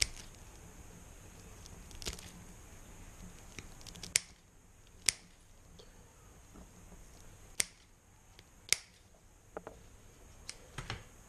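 Scissors trim a fishing jig skirt level with the hook, giving a series of quiet, crisp snips spaced a second or two apart against a near-silent background.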